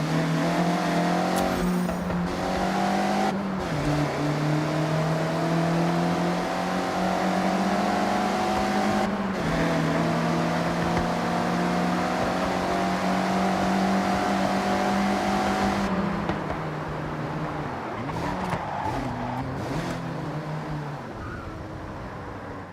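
Mazda MX-5 engine in Forza Horizon revving hard and steadily while drifting through corners, pitch rising and falling with throttle, with faint tire squeal and brief gear-shift dips, loud and close throughout.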